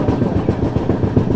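Chennai–Howrah Mail passenger train running through Tadi station without stopping, heard as a steady loud rumble with rhythmic wheel clatter throughout.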